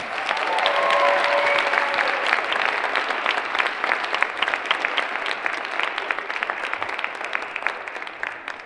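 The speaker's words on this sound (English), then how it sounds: "Let's give ballroomers a round of applause." Dense applause and clapping from a convocation audience for ballroom dancers at a college theater, loud and sustained at first, then gradually thinning toward the end.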